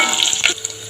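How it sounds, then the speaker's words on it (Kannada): Garlic and curry leaves hit hot oil for a North Karnataka peanut sambar, giving a brief, bright crackling sizzle that flares near the middle and then settles into a softer hiss. "ಈಗ ಬೆಳ್ಳುಳ್ಳಿ ಹಾಕೊಳತ್ತೀನಿ, ಕರಿಬೇವು ಹಾಕೊಳತ್ತೀನಿ"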